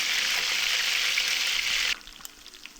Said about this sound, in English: So right now we're frying our chicken.